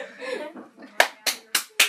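A person claps four sharp, separate handclaps at a steady pace, close and dry, with a voice sounding just before them.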